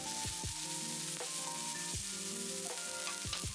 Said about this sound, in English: I keep stir frying.